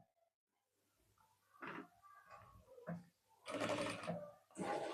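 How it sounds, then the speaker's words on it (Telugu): Sewing machine stitching a dress, running in short bursts of a few seconds each with brief pauses between, close and fairly quiet, no talking. "ఇప్పుడు దీన్ని మనము స్టిచ్చింగ్ చేసేసుకుందాం"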